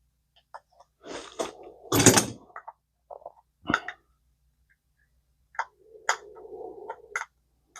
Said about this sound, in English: Go ahead and take this screw out on the side.